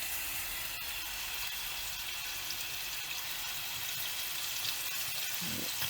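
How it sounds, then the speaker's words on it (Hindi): Thin chicken strips fry in a hot pan for a shawarma wrap, giving off a constant, moderately loud hiss and sizzle with a brief soft knock near the end; no voices. "तो इसमें मैं डालती हूँ इनको होने के लिए फ्राई"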